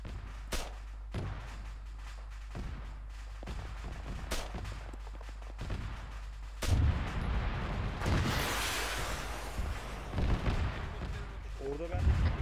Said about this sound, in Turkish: Roket atışı var, dikkat.